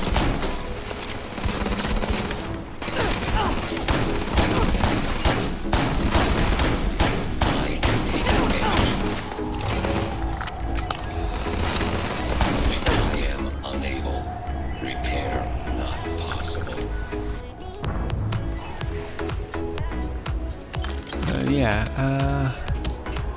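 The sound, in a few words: rapid gunfire from the Spacer weapon in video game Starfield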